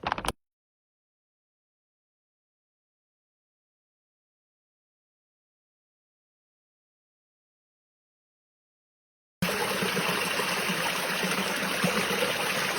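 A flowing creek near Yenişehir, Bursa: after a long stretch of silence, a steady rush of running water comes in for the last few seconds, continuous and fairly close, with no voices.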